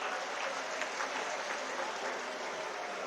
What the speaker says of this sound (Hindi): सबसे पहले जोरदार तालियां अपने लिए बजाइए आप लोग।